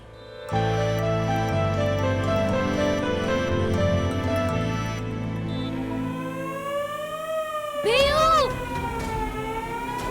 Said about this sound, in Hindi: सायरन की आवाज, मतलब भूचाल आने की चेतावनी।